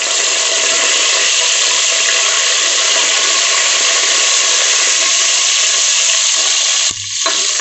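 Curry leaves hitting hot oil for chicken biryani, a loud steady sizzle that crackles without pause before cutting off briefly near the end.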